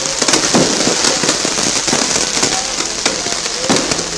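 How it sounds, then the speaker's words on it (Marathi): Dense crackling fireworks and firecrackers pop continuously at a swearing-in celebration in Maharashtra, with sharper bursts standing out every second or so against a steady hiss of distant explosions. "फटाक्यांची आतषबाजी केली जाते"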